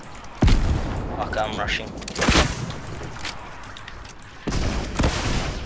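Rockets fired repeatedly in an online shooter game, with three sharp booming launches spread across a few seconds, close and punchy, while a player talks over them.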